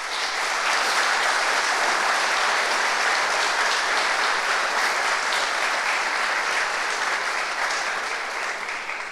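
Sustained audience applause fills a State of the City address hall, a dense, steady wash of many hands clapping at even loudness throughout, with no voices rising above it.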